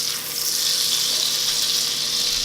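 Breaded Italian chicken strips fry in butter in a hot pan, giving a loud, steady, close hiss and sizzle that holds evenly throughout with no talking.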